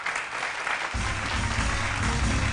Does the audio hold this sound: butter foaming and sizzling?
no